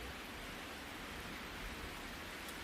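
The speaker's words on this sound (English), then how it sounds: "Rain hammers against the windows in relentless sheets" Heavy storm rain beating against windows, a dense, even hiss of constant downpour without breaks, moderately loud and alone.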